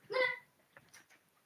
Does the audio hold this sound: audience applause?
no